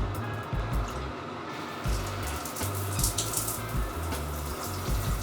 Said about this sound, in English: So that's how the shower works.